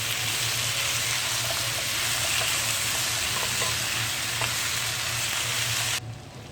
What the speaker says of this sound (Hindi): अब इसमें डालें आधा किलो आलू क्यूब्स में कटिंग किए हुए। इसे अच्छी तरह से मिक्स करें।